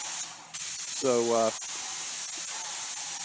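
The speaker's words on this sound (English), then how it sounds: "I'm using a 415 tip, a Graco paint pole, and a Graco 695 Ultimate Max 2." A Graco 695 Ultimate Max 2 airless paint sprayer with a 415 tip on a paint pole sprays satin paint onto a wood ceiling, a loud continuous hiss running throughout, briefly dipping, with a short spoken word midway.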